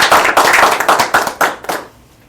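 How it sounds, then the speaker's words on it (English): A small audience claps for an honoree at a sponsored community event, a burst of dense, close applause that thins into a few scattered claps and fades out after about two seconds. "If we could give a round of applause to Shakita Robinson."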